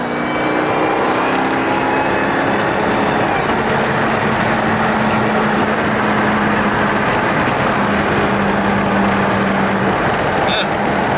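A supercharged car engine runs loud and steady with a rising supercharger whine layered over its rumble.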